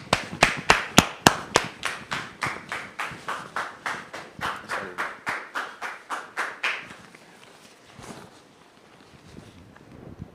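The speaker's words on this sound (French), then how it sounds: "Merci de la recevoir sous vos applaudissements s'il vous plaît" A studio audience on a French-language talk show set claps in steady, rhythmic unison to welcome a guest, loud and close at first, gradually softening over several seconds before trailing off into quiet room noise.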